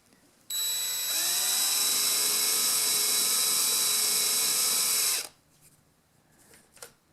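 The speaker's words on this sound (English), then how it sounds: "I'm using a 3/32 drill bit, and I just want to drill through the aluminum" A power drill with a 3/32 bit bores through the aluminum frame of a storm window, a loud high steady whine lasting several seconds before it stops abruptly, followed by faint handling noises.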